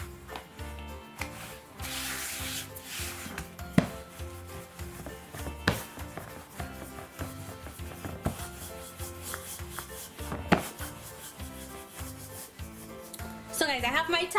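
Dhalpuri roti dough is rolled out with a rolling pin on a board, making repeated soft rubbing and scraping strokes with occasional knocks, close and steady with no talk.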